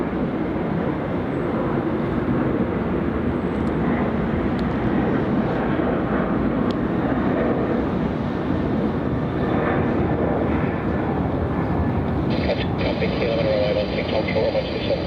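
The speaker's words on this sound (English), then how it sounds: "And there goes that 737 passing those ominous clouds." A Boeing 737 passes over Melbourne Airport in wet, stormy weather as a steady, broad jet roar fills the whole stretch, with a voice talking briefly over it.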